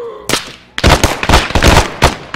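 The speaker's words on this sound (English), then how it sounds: "Shoot the runner!" Several sharp, loud gunshot bursts crack in quick succession during a PMC side op firefight in a shooter game, coming in uneven clusters after a short pause, with no talk over them.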